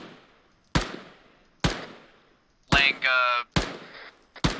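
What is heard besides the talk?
gunfire in a video game (Arma military sim)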